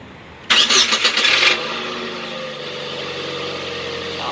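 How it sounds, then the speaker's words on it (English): A 2002 car engine with 171,000 miles, long maintained with Amsoil oil, cranks briefly with a loud whirring burst, then catches and settles into a steady idle. "Let's hear how it starts up after many years with Amsoil."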